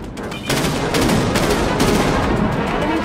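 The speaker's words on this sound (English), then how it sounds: "Enemy warhead blast at our position." A warhead explodes in Dreadnought, the sci-fi starship battle game, hitting the player's ship: a sudden loud blast, then a rumbling crackle of several follow-up bursts that keeps going to the end.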